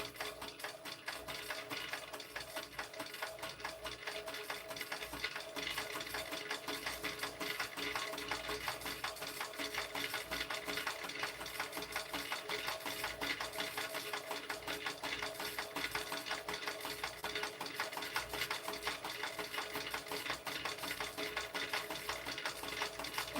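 Heavy-duty sewing machine top stitching a strap, a fast, continuous mechanical whirring and ticking that runs evenly at moderate volume with no voices.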